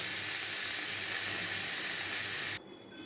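Ginger sizzling and frying in a pan while tarka dal is cooked, a steady loud hissing sizzle that cuts off abruptly near the end, leaving quieter background noise.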